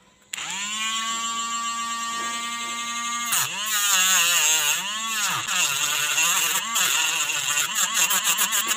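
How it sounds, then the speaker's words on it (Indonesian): A mini grinder built from an old printer motor whines steadily as it smooths a homemade drill bit, a loud high buzzing tone that dips and wavers in pitch as the workpiece is pressed against it. "sekarang tinggal saya rapikan menggunakan mesin gerinda mini"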